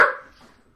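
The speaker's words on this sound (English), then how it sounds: "That'd be great if you just didn't bark right now" A dog in the Breath of Fire IV game gives a single short bark that fades quickly, heard alone and close.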